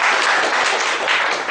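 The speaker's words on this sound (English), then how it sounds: "Please welcome with a huge round of applause CA Sundaresan." A loud, dense round of applause from a seminar audience welcoming the first session speaker, a continuous roar of many hands clapping close by with no talking over it.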